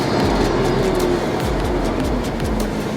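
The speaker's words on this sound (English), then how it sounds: "Turbo sound. Awesome." A LibertyWalk Porsche 911 (997) Turbo with a gearbox fault, driven fast in Manila, gives a loud, steady engine and turbocharger drone with a tone that wavers slightly, and no talk over it.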